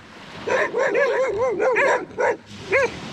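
A dog on a beach in Jamaica gives a run of short, close barks and yips in an uneven rhythm, with brief pauses between the bursts and no other voices.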